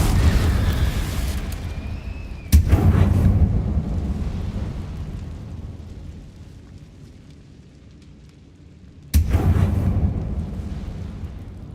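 Confringo blasting curse explosions in Hogwarts Legacy, with two sudden heavy booms about six seconds apart over a constant rumbling game soundscape that swells and fades between the blasts.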